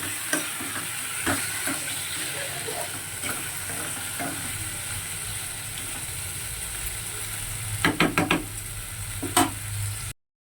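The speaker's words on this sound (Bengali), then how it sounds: "এবারে আমি মাছটা দিয়ে দিলাম, মাছটা রান্না হবে।" Fish, here lote, cooking with chopped tomato and salt in a frying pan, giving a constant soft sizzle and hiss, with a few sharp utensil clinks and scrapes near the end, and no talking.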